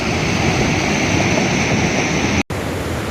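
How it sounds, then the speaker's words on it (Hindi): Rushing water of Sadhery waterfall in Samahni, a steady dense roar of falling water close by, continuous and loud with a brief dropout near the end. "पानी का शोर आपको सुनाई दे रहा है।"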